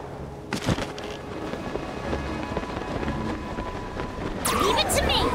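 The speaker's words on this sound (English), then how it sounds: "We are in the storm now." A storm in Zelda: Tears of the Kingdom brings steady rain hiss, a sharp thunder crack early on and a crackling burst of game effects near the end.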